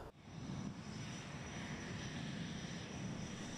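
Steady, continuous roar of a T-50 advanced trainer jet's engine, a broad rumbling drone that holds level throughout without any talk.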